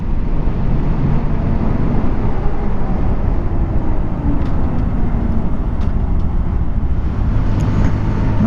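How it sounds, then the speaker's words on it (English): Maxxis knobby off-road tires on a small Honda Grom 125 motorcycle give a steady, continuous hum blended with broad road and wind roar that runs unbroken and fairly loud throughout, with no talking. "You can hear a tiny little hum coming out of them"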